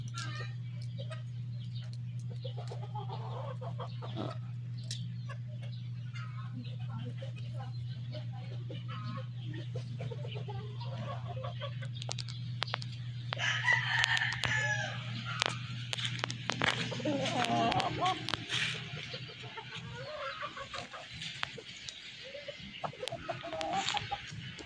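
Chickens cluck repeatedly over a steady low hum, with busier clucking and squawks in the latter half of the clip.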